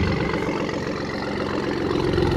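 A 2017 Hennessey Velociraptor Ford Raptor idles with a deep, even exhaust rumble, close and continuous with no talking.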